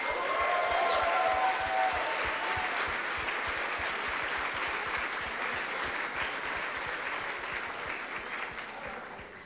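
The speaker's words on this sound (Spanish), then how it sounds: "También un fuerte aplauso para Borregos Salvajes de ITESUM Campus Guadalajara" Sustained applause from the audience at the closing ceremony of the ICPC Latin America Championship programming contest, saluting a university team from Guadalajara. Dense, steady clapping that fades slowly over about ten seconds, with no talking.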